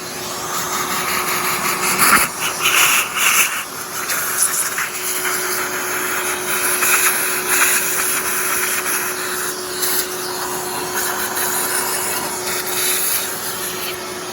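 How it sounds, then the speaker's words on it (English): A shop vacuum runs steadily with a loud, continuous whooshing roar, broken by occasional clunks and scraping sounds as it sucks up debris and water from a VW 1600 engine. "So I'm gonna put the shop vac on it and start cleaning it up."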